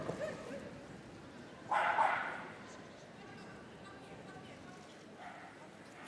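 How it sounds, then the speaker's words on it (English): A small, vocal agility dog at the Crufts 2020 show in the main arena barks and yips during its run, a few sharp bursts, one louder cluster, heard amid arena ambience and commentary. "So, plenty of vocal there from Chloe, as you can hear"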